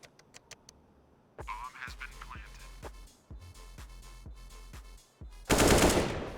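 Counter-Strike match on the Nuke map: sharp AK rifle gunfire in rapid bursts and single cracks, with a louder burst of noisy action at the end.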